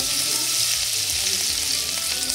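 Garlic paste dropped into hot mustard oil already seasoned with bay leaf, dried red chilli and whole cumin in a kadai, a loud, dense, continuous sizzle close up, with no voices.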